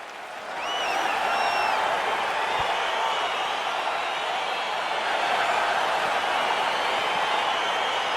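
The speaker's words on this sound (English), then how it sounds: "crowd getting excited as this fight gets underway" A UFC fight crowd swells into a steady, loud roar as the bout gets underway, cheering and whistles rising after a quieter first second and holding continuously.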